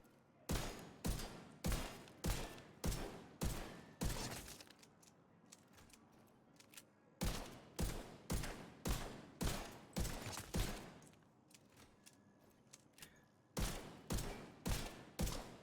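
Virginian rifle fire in The Division 2, sharp evenly spaced shots in rapid bursts of about six to eight, each with a short ringing tail, separated by brief pauses with light handling noise.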